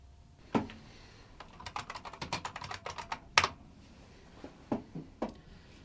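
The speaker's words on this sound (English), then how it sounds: "She's just typing on a computer." Someone types on a computer keyboard in a quiet room: a quick burst of soft key clicks, then a pause and a few scattered taps, close but faint.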